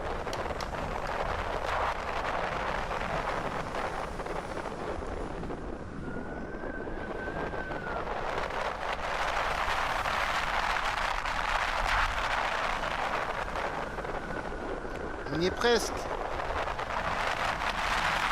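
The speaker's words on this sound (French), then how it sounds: "Le vent souffle si fort. Je ne m'entends même plus parler, tellement que le vent est fort." Strong wind roars steadily through the alien landscape of the video game Exo One, a broad continuous rush with a couple of brief tonal whines and a short spoken phrase over it.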